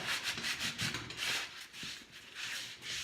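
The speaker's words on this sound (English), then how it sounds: "The wetness is carefully removing some of that paint." Wet chalk paint being rubbed off a wooden surface, giving a repeated soft scrubbing swish in a back-and-forth rhythm, close and fairly quiet, with no talking.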